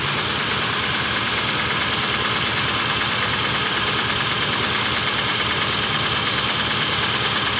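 A Honda City i-DSI engine idling with a misfire, a steady close mechanical drone with an uneven pulsing shake throughout, no talk over it.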